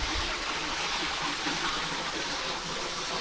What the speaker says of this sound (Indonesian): Di sini ada sungai